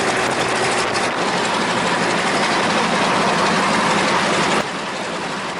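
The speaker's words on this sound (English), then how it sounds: "this Bristol Mercury engine starts wonderfully, and the oil pressure is good" Bristol Mercury radial engine on a Westland Lysander running steadily at a loud, dense idle after starting, with a slight drop in level near the end; no talking.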